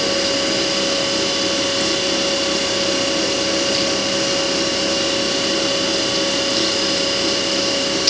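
A CNC mill cuts an aluminum Hohner MS-Series harmonica comb, producing a loud, steady, unbroken machining whine and hiss with constant tonal hum throughout, with no voices.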